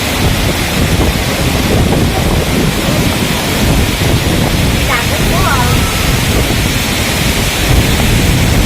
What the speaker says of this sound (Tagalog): Hangin na siya.